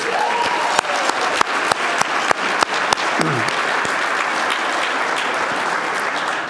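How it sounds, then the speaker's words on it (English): Banquet audience at the University of Colorado Law School alumni awards dinner at the Sheraton breaks into loud, sustained applause, a dense wash of many hands with sharper individual claps popping out near the start. "They deserve a round of applause."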